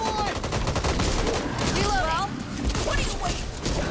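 Rapid bursts of gunfire from the co-op zombie shooter Back 4 Blood, a dense fusillade of automatic and single shots with crashes, continuous and loud throughout, mixed with players talking.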